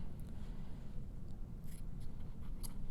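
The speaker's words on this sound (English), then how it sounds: "you can trim these pieces to match the rest of the pom-pom" Scissors snip and trim loose yarn ends on a pom-pom for a pincushion, quiet close cuts over a low background rumble.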